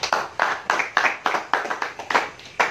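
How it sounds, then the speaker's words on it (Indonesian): Small group clapping in time for Pak Gandiasa after a weapon disassembly drill, about ten sharp rhythmic claps close by, evenly spaced and unaccompanied by talk. "Ya, tepuk tangan untuk Pak Gandiasa."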